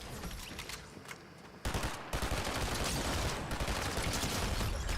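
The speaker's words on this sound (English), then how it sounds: "Got more gunfire." Bursts of rapid gunfire crackle and boom at a moderate distance in a video game, a sustained volley that grows louder after a brief lull.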